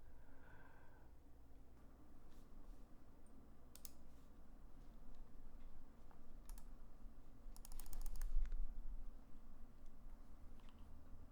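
A mechanical keyboard fitted with Boba switches is typed on in a quick, steady stream of soft clicks. The typing sounds slightly distant and faint under a constant background hiss, with a few sharper clacks standing out.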